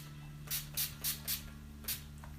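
Five quick hissing bursts from a spray bottle, close up, in a loose rhythm with a short pause before the last spritz.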